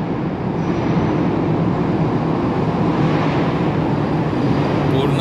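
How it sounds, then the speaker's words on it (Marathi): Inside the Kashedi tunnel, a vehicle produces a steady, loud, echoing rumble that fills the enclosed space, with a voice talking over the reverberating noise. "एक गाडी येत आहे आणि त्या गाडीचा आवाज एकदम इको साऊंड होत आहे"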